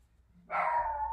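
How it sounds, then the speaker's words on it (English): One dog gives a single drawn-out bark in the background, moderately loud, rising suddenly out of a quiet room with low hum. "Oh, that's the doggy in the background."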